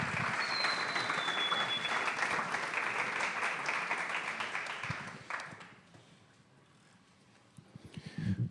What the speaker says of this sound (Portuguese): Uma salva de palmas a eles.